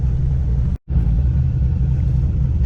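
Low, heavy rumble from a twin-turbo C5 Corvette engine while driving, loud and steady from inside the car, cutting out for an instant before the drone resumes.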